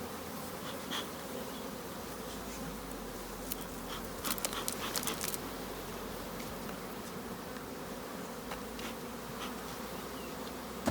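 A dense, steady buzzing of many honeybees at a hive fills the whole stretch, with brief louder passes of individual bees close by.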